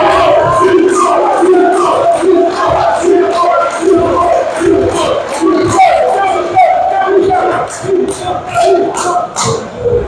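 A table tennis hall crowd at a British league team match cheers and shouts loudly and continuously, voices rising in bursts of yells over a dense, steady roar of supporters.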